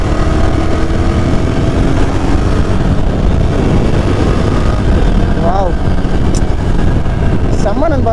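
Yezdi Scrambler motorcycle, a 2022 model, running on a test ride with a steady engine drone and road rumble throughout, while someone talks over it almost continuously.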